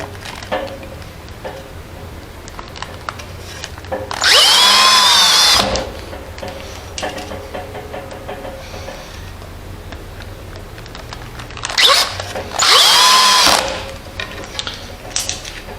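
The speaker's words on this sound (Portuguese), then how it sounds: "a gente vai tentar furar essa madeira agora" A revived cordless electric screwdriver, long unused, drives a small screw into a piece of wood in two loud whirring bursts of about a second and a half each, separated by quieter handling noise.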